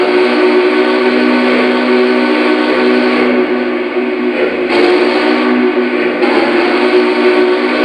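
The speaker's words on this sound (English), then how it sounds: "Go ahead and blow the whistle." A steady, shrill whistle from a Vision Big Boy model steam locomotive blows continuously with a bright hiss, holding loud and even for several seconds with no talking.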